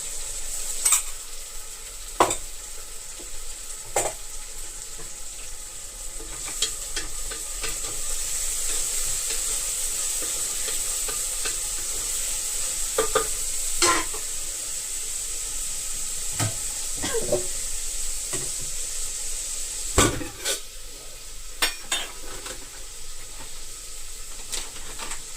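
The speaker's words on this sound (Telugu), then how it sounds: "కొంచెం అల్లం వెల్లుల్లి పేస్ట్ వేస్తున్నాను." Ginger garlic paste fries in hot oil for a mutton biryani, giving a steady close sizzle broken by repeated sharp scrapes and knocks as a spoon stirs it in the pan.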